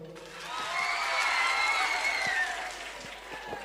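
An audience at a comedy show applauds, a dense wash of clapping that swells and holds for a couple of seconds before tapering off, with a few faint voices in the crowd.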